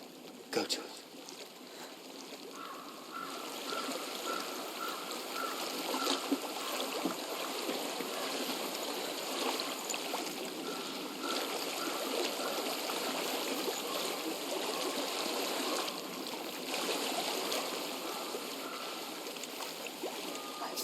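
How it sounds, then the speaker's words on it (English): Steady flowing stream water in a forest area of the video game Hellblade: Senua's Sacrifice, a soft, continuous rushing and trickling wash heard at a moderate distance, fairly quiet and unbroken throughout. "I hear water. Go to it."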